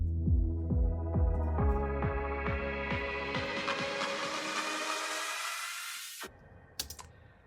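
An electronic track built with the Endless Smile plugin by Dada Live: thumping low beats under layered synth tones that swell in a long rising sweep, then cut off abruptly, leaving a few brief blips.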